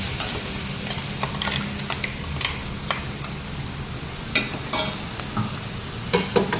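Curry leaves sizzle and crackle steadily in hot tempering oil up close, with a spoon scraping and stirring through the pan; no voices.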